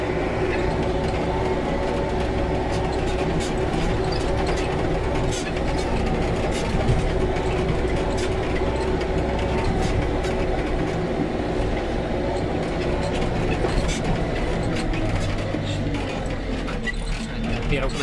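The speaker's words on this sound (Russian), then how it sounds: "Сейчас в горку еду. Полный привод включу." A 2001 JCB 3CX backhoe loader climbs a hill in four-wheel drive, its engine a steady, loud rumble with mechanical clatter and rattling throughout, while someone talks over it.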